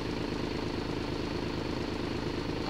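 A motorcycle sits idling nearby on a narrow, congested road, its engine giving a steady, evenly pulsing low rumble that holds without change, with no talk.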